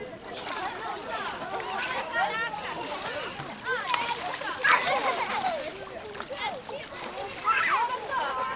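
A child swimming in water splashes and sloshes repeatedly and fairly close, with irregular bursts of spray, while adults talk over the splashing throughout.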